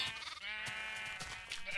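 Sheep bleating in a video game, with several short, fairly loud bleats following one another over under two seconds.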